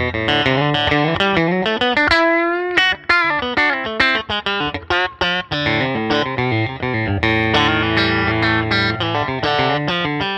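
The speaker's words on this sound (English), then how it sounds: "a Voodoo TE-59 in the bridge with three-way switching, and it sounds like this" Blonde Crook Custom T-Style electric guitar with a swamp ash body, one-piece maple neck, APC neck pickup and Voodoo TE-59 bridge pickup, played through effects and distortion: a fast, busy run of bright overdriven notes and chords, loud and continuous.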